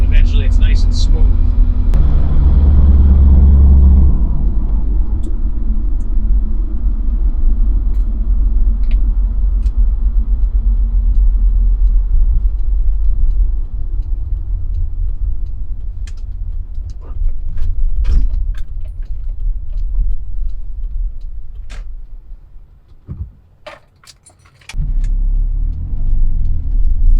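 A car drives along steadily with a continuous low engine rumble and road noise, a brief dip near the end before the drone resumes, with occasional small clicks and rattles inside the cabin.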